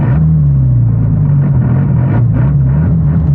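A Porsche 911 GT3 RS engine heard from inside the cabin gives a loud, steady, deep droning rumble with a slight wavering pitch, close and continuous throughout.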